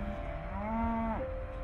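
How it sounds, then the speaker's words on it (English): A heifer or cow lowing on an Idaho cattle ranch: one sustained, clear moo that swells and then drops off, heard close over a steady outdoor background hum. "Cascade rancher Phil Davis was busy working cattle, sending a group of heifers to market."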